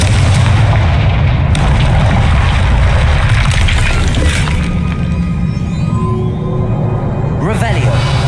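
Fiery Confringo spell blast in the Hogwarts Legacy video game, a loud booming explosion over dense, continuous combat noise, with a voice speaking over it.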